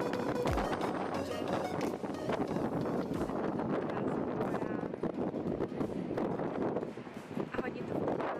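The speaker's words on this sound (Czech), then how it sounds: "A hodně to fouká." Strong gusts buffet the microphone in a continuous roaring rush, loud and close throughout, with a voice faintly mixed in.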